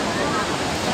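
A Thai waterfall roars as a steady, dense rush of falling water, close and continuous with no break.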